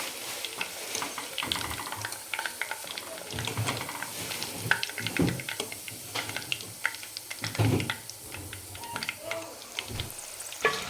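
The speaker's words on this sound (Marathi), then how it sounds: "अशाच पद्धतीनं आपण पूर्ण हे चिकन फ्राय करून घेते" Chicken frying in oil crackles and sizzles continuously, with occasional clinks and stirring sounds, under a low background hum.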